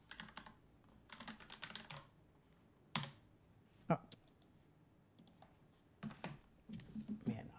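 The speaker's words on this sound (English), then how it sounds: "I am just not very competent at typing today" Computer keyboard typing in bursts of quick clicks, scattered across the stretch with brief pauses, close and fairly quiet, with someone briefly speaking over it.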